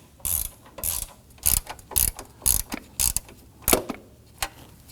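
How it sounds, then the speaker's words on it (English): A hand ratchet clicks in short bursts while tightening bolts on a 2015-2024 Nissan Murano 3.5L V6 during an upstream O2 sensor replacement, close and loud, about eight quick ratcheting strokes with brief pauses between. "let's go ahead and switch over to a hand tool when tightening these down"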